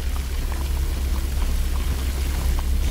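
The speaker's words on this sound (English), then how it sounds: "He has a waterfall" Waterfall inside a house in Minecraft: Story Mode, a steady, even rush of splashing water with a strong low roar, running alone without pause.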